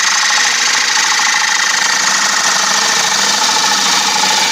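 A bowl gouge cuts into an ironwood bowl spinning on a wood lathe, producing a loud, continuous rough hiss and scraping roar with a steady rhythmic flutter and no pauses.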